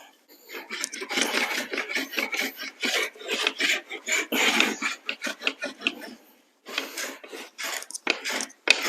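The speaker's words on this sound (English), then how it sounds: "So I have a planer here. I'm going to give that a try." A small hand planer shaves the edge of a wooden interior door in repeated rasping strokes, close and fairly loud, with short pauses between passes.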